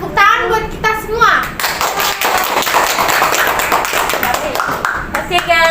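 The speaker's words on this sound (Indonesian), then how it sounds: "Tepuk tangan buat kita semua." A small group of students claps together at the close of a school literature podcast recorded at SMAN 31 Jakarta. The quick, steady clapping runs for several seconds, with voices talking before and after it.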